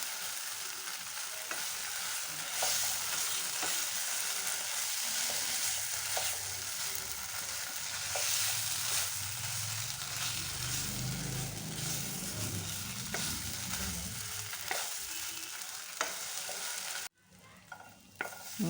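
A spoon stirs green banana peel paste with sugar in a hot pan, producing steady scraping and a soft sizzle that continue for a long stretch, close and fairly quiet with no talking.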